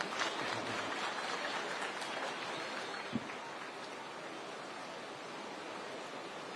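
Applause from a crowd at the inspection of a housing project runs as a steady, dense, even wash of clapping that holds for the whole stretch, with no break and no clear voices.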